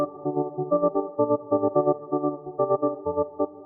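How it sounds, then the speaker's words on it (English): Soft sine-wave synth chords played in FL Studio, a clean, pure-toned progression of short sustained stabs in a steady rhythm, moderately loud and with no voice. "It's just some sine waves."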